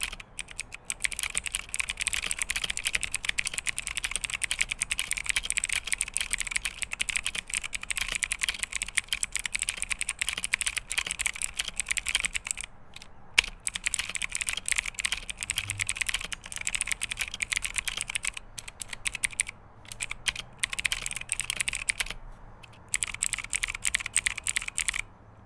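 Fast, continuous typing on a Motospeed K87S RGB mechanical keyboard with clicky, tactile Outemu Blue switches produces dense, crisp clicks close up, heard alone with only brief pauses.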